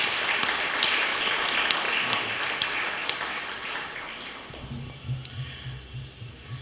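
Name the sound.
congregation applause in church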